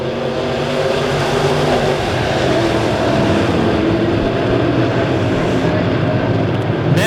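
Midwest Mods race cars roar together at Springfield Raceway during the Turkey Bowl heat, making a loud, continuous, dense engine drone from the pack with no clear breaks.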